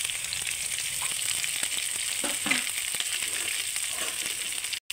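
Peas, split green chili and ginger fry in a pan, giving an even, continuous sizzle at moderate volume, with light scraping and crackles from occasional stirring.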